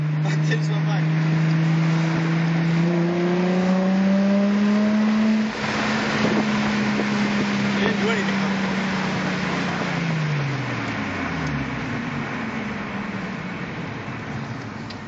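A Chevrolet Corvette ZR1 engine drones loudly and steadily as the car drives by, its pitch climbing then dropping away as it passes and fades into the distance, with people talking over it.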